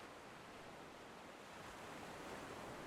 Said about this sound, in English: So you're probably listening to my ocean now.